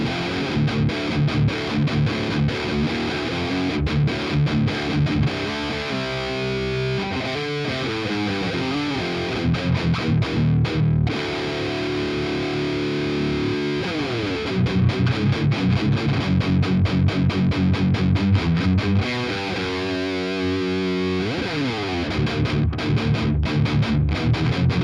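Electric guitar played through a high-gain orange amp without a tube screamer, heavily distorted riffs with chugging palm-muted passages and sustained chords, loud and continuous.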